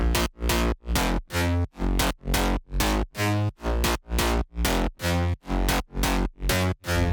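A thick, buzzy phonk synth bass built from a wavetable pulses in a steady repeating pattern of short notes, loud and upfront with no voices.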